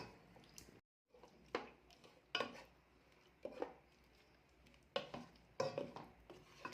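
Fried onion and tomato being stirred in a pot, with a few scattered scraping and clinking strokes of a utensil against the metal. Quiet between strokes, no talk.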